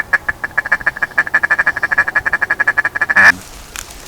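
Ducks quacking during a youth duck hunt, a close, rapid run of about two dozen evenly spaced nasal quacks that ends in a louder burst and then falls quiet.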